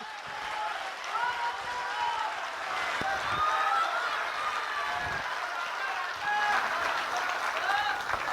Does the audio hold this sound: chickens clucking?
no